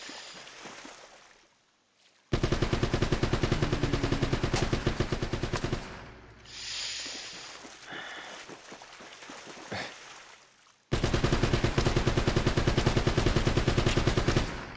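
Bursts of automatic gunfire in the video game Uncharted: Drake's Fortune come as two loud, rapid sustained volleys, with quieter action sounds and single shots in between.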